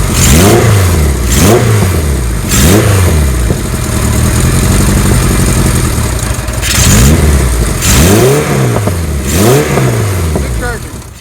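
A 1977 Kawasaki KZ1000 motorcycle engine runs loud and close, revving up and dropping back again and again in rising-and-falling sweeps with a steadier idle stretch in the middle, while people talk over it.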